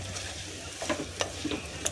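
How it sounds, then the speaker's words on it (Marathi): Sabudana (tapioca pearls) frying in a pan while being stirred, with a soft sizzle under a few sharp scraping stirs and clinks spaced irregularly. "तर आता ह्याच्यामध्ये साबुदाणे घातलेत"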